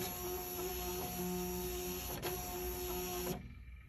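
A Zebra ZT610 label printer running manual calibration for labels and ribbon, a steady close mechanical whir with a faint high whine and a brief tick midway, stopping abruptly near the end.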